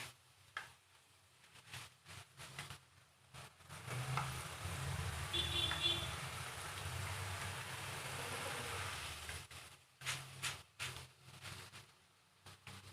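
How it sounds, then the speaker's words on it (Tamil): Field beans deep-frying in oil give a soft, steady sizzle that swells for several seconds midway and then fades, framed by faint scattered clinks and handling sounds before and after, all quiet and close. "எல்லா அவரைக்கொட்டையும் பொரிச்சு எடுத்தாச்சுங்க"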